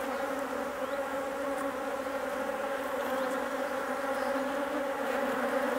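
Honey bees in an open hive make a dense, continuous buzzing drone that stays steady and close throughout, with no voices.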